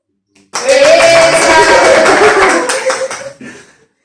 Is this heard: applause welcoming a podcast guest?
yes